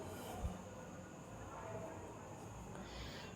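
A train runs alongside on the rails on a Kolkata to Gujarat journey, a faint, steady rolling rumble with a brief knock near the start, heard from a moving vehicle.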